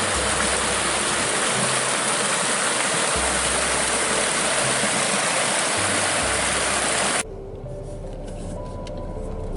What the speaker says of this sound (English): The river's really clear, and there is trouting here.